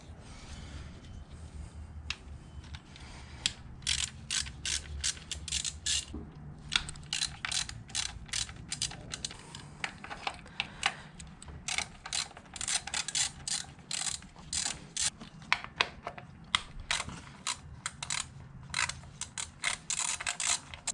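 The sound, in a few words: 3/8 ratchet with 10mm long socket removing bolts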